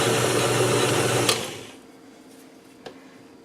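A KitchenAid stand mixer with a faulty, fast-starting switch mixes kolache dough, whirring loudly for about a second and a half before cutting out to a quiet room, with a couple of small knocks afterward.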